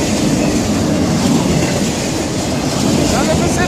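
Cars of CSX freight train Q251 roll by nearby, giving a loud, continuous rumble with steady clickety-clack from the wheels over the rail joints.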